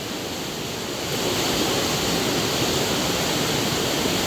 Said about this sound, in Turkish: 48 kilometre uzunluğu olan oldukça hızlı akan bir deredir